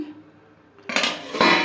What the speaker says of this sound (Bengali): একটু চাপা দিয়ে দিই